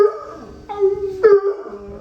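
A female dog howls close by in two drawn-out, wavering howls, the second rising sharply before trailing off, with no talking over it.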